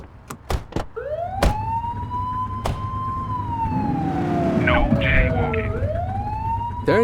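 A police car siren wails in The Precinct video game, one loud sweeping tone gliding up and down, with a few sharp short whoops and clicks near the start.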